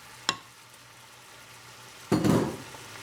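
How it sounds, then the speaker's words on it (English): A sharp clink, then a burst of loud sizzling as egg roll in a bowl ingredients with garlic hit a hot pan, fading over about half a second. No one speaks. "you can really hear that sizzle now"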